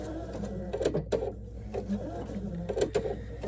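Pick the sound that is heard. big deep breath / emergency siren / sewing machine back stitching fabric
sewing machine back stitching fabric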